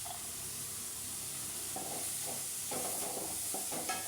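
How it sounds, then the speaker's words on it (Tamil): Onions and chilli powder fry in a pan in a simple home kitchen, giving a steady, close sizzling hiss. Intermittent stirring clatters over it, and there is no talk. "மிளகாத்தூள் போடணும் போட்டு நல்லா ஃப்ரை ஆனணும்"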